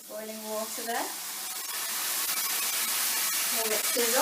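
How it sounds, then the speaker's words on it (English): Curried rice with prawns sizzling in a pan after a splash of boiling water, a steady, close frying hiss that builds over time, with a voice speaking briefly at the start and end. "Let it sizzle."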